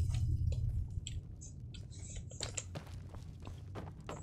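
A character eating food in the Skyrim video game, with soft wet chewing and squishy bites in a quick irregular run, close and moderately loud over low game ambience.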